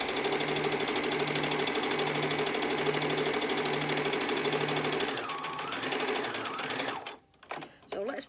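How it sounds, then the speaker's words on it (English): Sewing machine stitching a seam across the base of a fabric bag, a steady loud mechanical whir that runs continuously for about five seconds before stopping, followed by fabric handling and a few quiet knocks. "So, I'll just run across the bottom."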